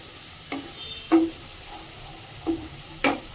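Spice paste and potatoes are stirred in a pan for Bengali chicken kosha: four separate spatula scrapes over a quiet, faint sizzle.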